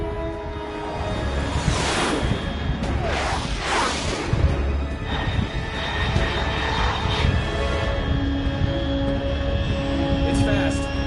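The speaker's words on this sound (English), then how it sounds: "Control, unidentified aircraft detected," Fast unidentified aircraft in Metal Gear Solid 3: Snake Eater, a roaring jet engine with repeated whooshing surges over a constant drone, while a radio voice speaks over it.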